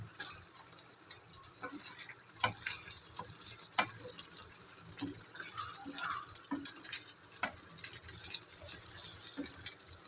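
Omelettes simmer and sizzle in a masala gravy spiced with chicken masala and garam masala, with a steady soft bubbling hiss, scattered crackles and a few utensil clinks close by.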